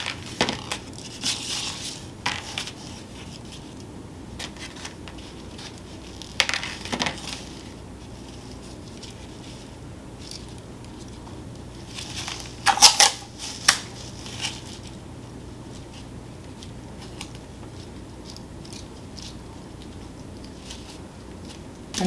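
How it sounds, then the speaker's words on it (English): Small X-Acto knife cuts and snips through bits of craft wire for a DIY wire sculpture, giving a few scattered crisp clicks and short crunchy bursts, close and fairly quiet, with long quiet gaps between them. "I'm going to use my X-Acto knife to kind of cut some of these pieces a bit smaller."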